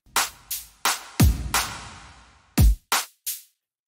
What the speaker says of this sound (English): I've made an automation on the drum bus that consists of a reverb and a low cut